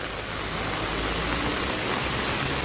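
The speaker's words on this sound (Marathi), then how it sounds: "पाऊस येतो वाटतं." Rain pours in a continuous loud broadband wash, heavy and unbroken from start to finish, with a low rumble underneath and no talk.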